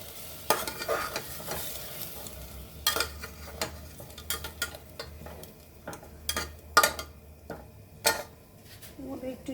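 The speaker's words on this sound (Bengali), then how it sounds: "এবার মশলাটার সঙ্গে আমি আলুটা ভালো করে কষাবো।" Potatoes fry in spice paste in a pan while a spatula stirs them, giving a soft sizzle under irregular scraping and clinking strikes against the metal, some sharp and close.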